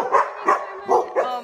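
Dogs waiting for their groomer bark four times in quick, evenly spaced yips, loud and close, each bark short and sharp.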